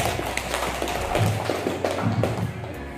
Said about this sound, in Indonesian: Aplaus dulu untuk kelompok 3.